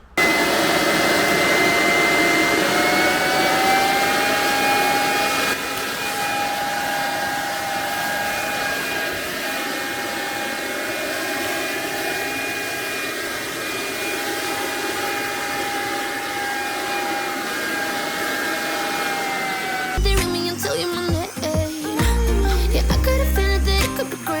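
STIHL cordless leaf blower running in turbo mode, a loud steady whooshing roar with a high motor whine that holds for about twenty seconds, followed by a brief rough burst of handling noise at the end.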